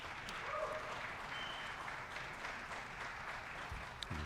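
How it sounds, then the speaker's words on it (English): Faint, steady applause from a distant audience at a professional archery tournament final, a soft continuous patter of clapping in the background with no talk over it. "hear the applause in the background"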